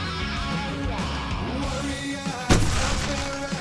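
Gunfire in the video game Alan Wake Remastered, with one sharp, loud shot standing out near the end above a dense, steady bed of game music, shouting and combat noise.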